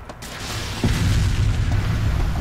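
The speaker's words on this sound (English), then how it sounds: "That's explosion." A loud, deep in-game explosion from the military shooter Arma 2, following an RPG strike on an M1 tank: a sharp booming onset near the start, then a sustained heavy low rumble that lingers without talk.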